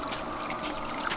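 Water discharging from a bilge pump line into a tailings bucket, a steady close trickling and splashing stream heard alone without pause.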